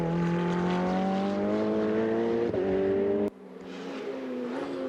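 A Ferrari 488 GTE turbocharged race car at a Ferrari Challenge Trofeo Pirelli race in Budapest screams loudly at sustained high revs, briefly dipping, then cuts sharply on a gearshift lift before the engine note climbs again.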